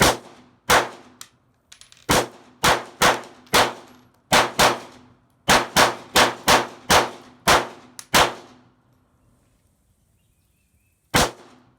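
Nighthawk 1911 pistol fired in a series of sharp, loud, close single shots at an uneven pace, about fifteen reports with ringing decays, then a pause and one final shot.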